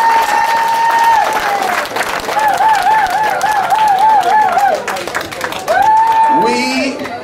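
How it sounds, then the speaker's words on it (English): Loud, close applause from a campaign rally crowd in Portsmouth, Dominica, steady clapping with cheers and shouts, overlaid by repeated warbling horn or whistle tones and a voice near the end. "I want you to give yourself a big round of applause for that."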